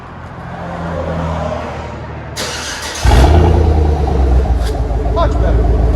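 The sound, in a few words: Chevy Tahoe 5.3L V8 exhaust with muffler and resonator delete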